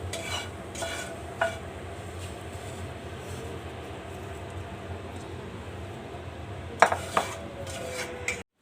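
Panjiri is mixed with sugar in a pan, with a steady scraping, rustling stir under the whole stretch and a few sharp metallic clinks of a spoon against the pan.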